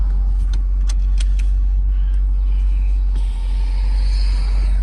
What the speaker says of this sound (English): Roll the windows down so you can hear the exhaust real quick.